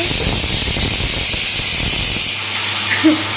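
Steady loud hiss of steam escaping a pressure cooker holding lentils, continuous throughout with a faint low hum joining near the end.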